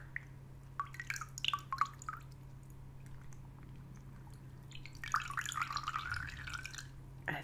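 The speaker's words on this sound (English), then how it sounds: "I'm just going to wet my brush in a little bit of this bowl of water that I've got" A makeup brush is dipped and swished in a small bowl of water, quiet close-up trickles and drips coming in scattered bursts, louder at the start and again near the end, over a low steady hum.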